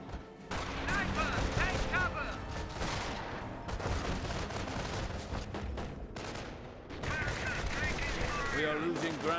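Machine gun bursts and mortar blasts in the Company of Heroes World War II strategy game, dense overlapping rattling fire and booms throughout, loud and continuous, with game voices mixed in.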